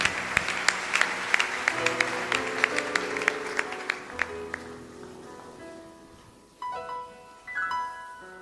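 Congregational applause in a French-speaking church service, a burst of clapping acclaiming the Lord that thins out midway, with music and vocal tones rising toward the end.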